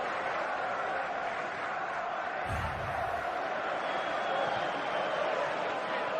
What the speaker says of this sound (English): from the crowd noise you can hear?